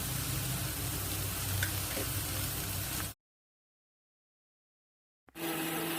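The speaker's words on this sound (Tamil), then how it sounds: "இப்போ கீரைக்கு தேவையான அளவு மஞ்சளும் கொஞ்சமாக உப்பும் சேர்த்து நல்லா கிளறிக்கலாம்." Spinach with turmeric and salt sizzling as it is stirred in a pan, a steady close frying hiss for about three seconds, then a gap of silence before the sizzle resumes.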